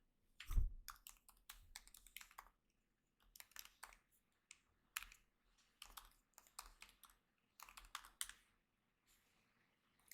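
Soft typing on a MacBook Pro keyboard as a password is entered, several short bursts of quiet key clicks separated by brief pauses, with no voices.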